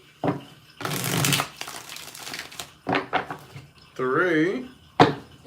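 A deck of tarot cards is shuffled in several loud, rustling bursts, close by, with a brief voiced sound partway through.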